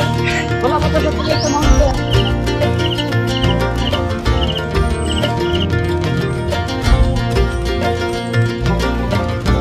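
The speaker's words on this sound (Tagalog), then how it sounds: "okay sarap pakinggan ang mga huni ng ibon at mga ingay ng insekto sa kapaligiran" Birds chirp along the forest trail climbing Bud Bonggao in Tawi-Tawi, with repeated short high tweets that rise over a dense, busy background of other sound.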